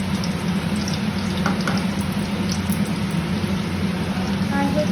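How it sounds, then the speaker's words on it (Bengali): Bay leaf, crushed cardamom, cinnamon and cloves fry in oil with a steady, dense sizzle that holds evenly from start to finish, close and fairly loud. "আর হচ্ছে দারচিনি আর লবঙ্গ একটু ভালো করে ভেজে নেব।"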